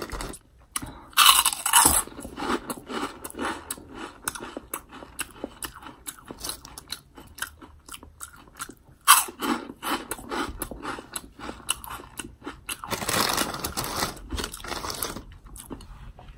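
Crunchy Taco Bell cinnamon twists coated in cinnamon and sugar are chewed loudly and close, with bursts of sharp crunching bites between quieter smacking and mouth sounds.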